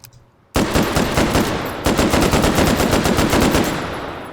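A Browning automatic rifle fires in the VR shooter game H3VR: after a brief quiet moment, two loud, close, rapid bursts of automatic gunfire follow one another, with the echo trailing off at the end.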